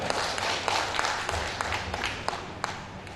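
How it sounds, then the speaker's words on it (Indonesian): Graduates at an STMIK Kristen Neumann Indonesia graduation ceremony receive applause from the audience, a continuous patter of clapping with a few sharper individual claps standing out, fairly quiet and without speech. "Tepuk tangan buat mereka"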